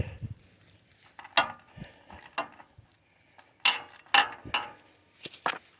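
Metallic clicks and clinks of a bolt being loosened and pulled from a generator carburetor, a series of sharp close taps and rattles with short pauses between, no talking.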